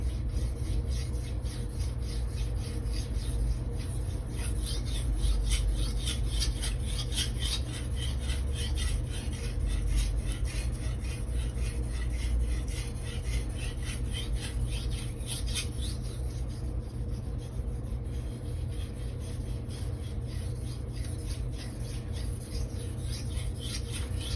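A 240mm Gyuto knife in Blue Super steel is sharpened on a Naniwa whetstone finer than 800 grit, with continuous rhythmic rasping strokes scraping back and forth, close and steady for the whole stretch.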